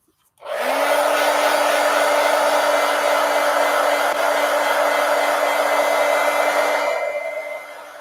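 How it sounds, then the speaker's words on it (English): A heat gun blasting steadily to dry coloring work, a loud continuous whooshing roar with a steady tone that starts abruptly, holds for several seconds and tapers off at the end. "So let that dry or hit it with the heat gun."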